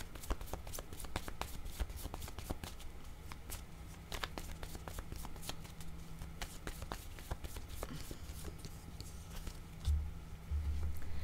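Tarot cards shuffled by hand in a steady run of crisp riffling flicks and soft slaps, close and fairly quiet, continuing for the whole stretch with no talk over it.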